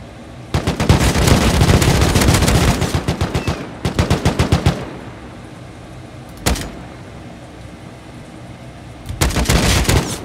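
Rapid automatic gunfire in the online survival game Rust, loud and close, with long sustained bursts, a shorter burst, a single sharp shot and a final burst, no talk over it.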